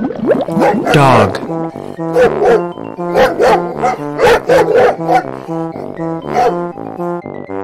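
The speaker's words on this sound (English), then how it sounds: "Dog." A dog barks in a quick series of sharp, close barks over steady rhythmic music.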